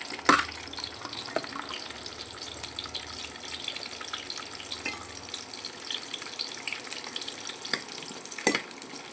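Chopped onions hit hot oil in a pan for a masala paste, giving a steady, fairly close hiss of frying with scattered crackles and a couple of sharper pops.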